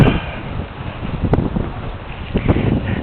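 Wind buffets an FPV drone's microphone outdoors on a windy day, giving a steady, loud, rumbling roar with gusty surges and no voices.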